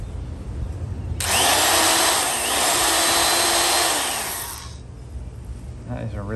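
A vintage Disston Model D25 electric drill whirs steadily for a few seconds at close range, its pitch dipping slightly mid-run before it winds down and stops.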